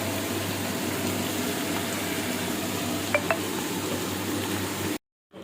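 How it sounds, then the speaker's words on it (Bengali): Potatoes fry in oil with a soft, steady sizzle under a constant kitchen drone, broken by two light clicks before the sound cuts out near the end. "এখানে আলু ভাজা হচ্ছে"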